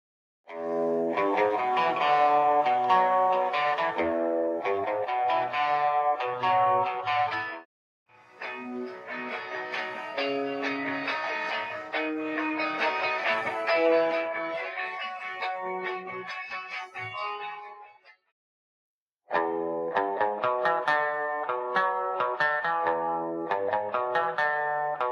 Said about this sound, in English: he played with a guitar with a nasal sound and light distortion